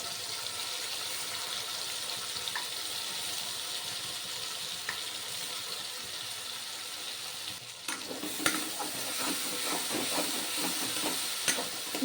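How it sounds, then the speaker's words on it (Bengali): Spice paste for a doi rui fish curry fries in hot oil with a steady sizzle and hiss, then a spoon stirs it near the end, adding sharper scraping and spattering bursts close by. "নেড়ে চেড়ে ভালো করে কষিয়ে নেব।"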